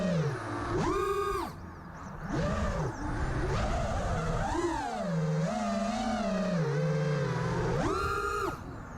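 Quadcopter motors rev up sharply and repeatedly as the throttle is punched during PID tuning, rising and falling whines with bursts of high-pitched surging between steadier hovering tones, loud and close.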